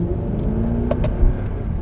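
A used Mercedes-Benz E63 AMG engine rumbles and revs steadily up close, a deep, continuous tone with a brief swell near the end and no talking.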